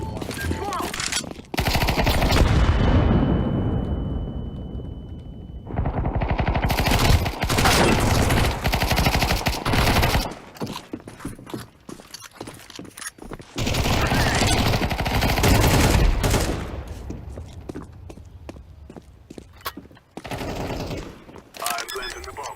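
Rapid bursts of automatic gunfire and scattered single shots from a tactical shooter game crackle loudly across the stretch, broken by short pauses, with voices talking over parts of it.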